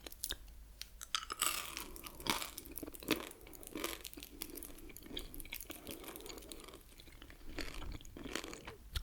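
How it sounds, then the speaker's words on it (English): Lidl strawberry lime gum chewed close to the mic in a quiet room, with steady wet, sticky chews and crunchy clicks in a continuous rhythm, and no talking. "So here is my gum. It is Lidl strawberry lime gum."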